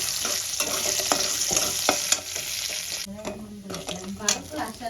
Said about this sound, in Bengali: এবার ফোড়নে দেবো শুকনো লঙ্কা তেজপাতা আর গোটা দিয়ে ফোড়নটা একটু ভেজে নেব